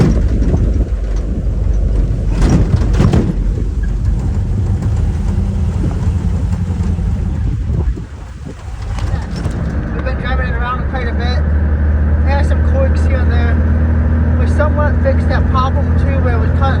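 Ford Bronco II engine and road noise while driving after a clutch repair, a loud steady drone with a dip midway, then a smoother higher cruise, with someone talking over it.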